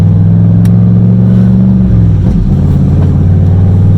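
A car with a manual transmission drives in first gear, its loud close engine droning at a steady pitch that dips and shifts midway before holding on, no voices.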